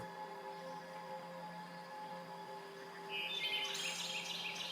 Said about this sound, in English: Birdsong reaches to you from the forest.